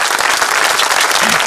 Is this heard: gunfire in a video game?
no